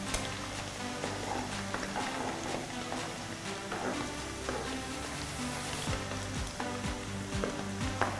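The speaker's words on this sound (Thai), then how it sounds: "คอยเขี่ยไปเรื่อยๆค่ะรอทอดจนกระทั่งเขากรอบดีนะคะ" Shredded pork frying in oil over moderate heat until crispy, a steady dense sizzle and crackle with occasional stirring scrapes, continuous and close.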